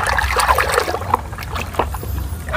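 A toy is shaken in water while being cleaned, giving continuous close sloshing and trickling with small splashes throughout.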